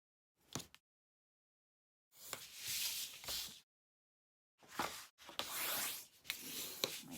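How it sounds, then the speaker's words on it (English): Paper is folded and creased with a folder tool, making several close, dry rubbing and scraping strokes of a second or so each, separated by silences. "I'm going to fold this in."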